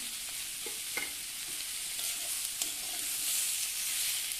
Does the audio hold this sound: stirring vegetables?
yes